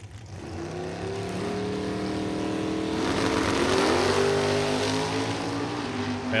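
Copperhead Chevy II drag race car at Byron Dragway, its engine roaring loud and steady with rising harmonic revs that climb sharply midway, a sustained high-powered blast throughout.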